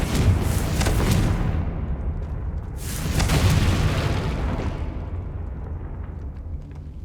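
Confringo spell explosions in a Harry Potter video game: two deep, loud booms close together, each bursting broadly and then rumbling away into a long low tail.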